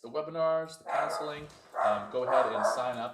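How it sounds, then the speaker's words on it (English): Several dogs bark and yip in repeated bursts close by, loud and persistent, mixed with someone talking over them. "Sorry, some dogs are happening."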